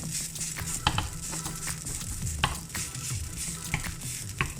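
A wooden spoon breaks up grilled ramen noodles in a hot pan, with continuous close sizzling and frying under irregular scraping and stirring knocks. No one speaks.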